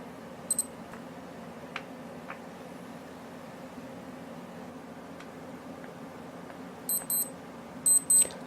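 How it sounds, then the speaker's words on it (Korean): Faint, high electronic beeps from a Casio G-Shock GWR-B1000 Gravitymaster wristwatch alarm: a couple of short chirps, then paired bursts of beeping later, over quiet room noise. "알람 역시 알람 시간이 되면 10초간 알림음을 울려줍니다"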